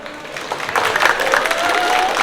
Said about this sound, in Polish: Brawa dla młodych, którzy są z nami